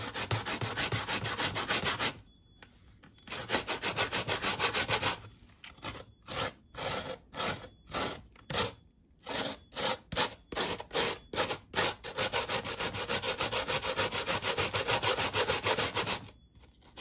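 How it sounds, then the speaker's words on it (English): A piece of ginger is rubbed against a grater in quick rasping strokes, close and loud, first in long continuous runs, then in short rhythmic bursts with pauses, then steady again, with no voices. "I'm going to grate the ginger."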